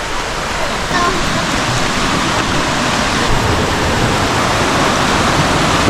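Steady, loud rush of falling water at Dao Falls on Samal Island, a broad continuous roar that fills the whole moment with no break.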